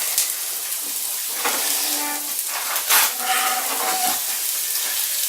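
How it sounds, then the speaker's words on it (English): Onions sizzling and frying in a pan for a home-cooked takeaway-style Chinese chicken curry, a steady close hiss with crackling spits and a brief louder burst midway, no talking. "Just get them started and fry away nicely."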